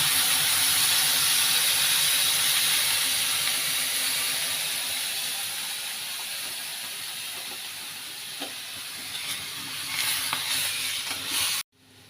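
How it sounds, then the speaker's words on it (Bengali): Water added to a pan of fried mango pieces tempered with mustard seeds and dried chilli hisses loudly at first, then settles into a softer, steady sizzle before cutting off abruptly. "এবার জল দিয়ে দিচ্ছি"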